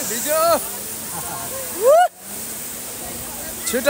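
The Namastey Jharna waterfall sprays water with a continuous rushing hiss while excited voices talk and shout over it close by.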